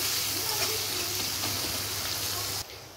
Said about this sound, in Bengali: পেঁয়াজগুলো দিয়ে দিলাম, পেঁয়াজটাকে একটু ভাজা ভাজা করে নিব।